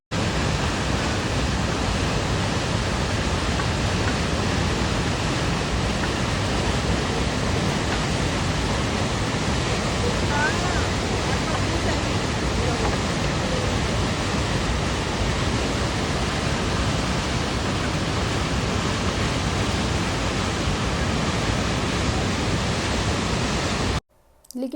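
A mountain waterfall on the Kedarnath trek roars in a steady, dense wash of broadband noise, loud and unbroken for about twenty-four seconds before cutting off abruptly.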